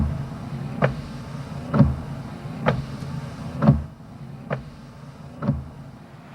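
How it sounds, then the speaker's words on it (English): BMW windshield wipers make about seven soft, evenly spaced thunks, roughly one per second, over a quiet low hum. "Or the gentle thunk-thunk of the windshield wipers."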